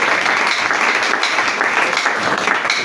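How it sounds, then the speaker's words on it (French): A church congregation breaks into steady, loud applause during a sermon, a continuous wash of clapping from a large crowd with no gaps. "Est-ce qu'on peut acclamer à l'honneur de Jésus?"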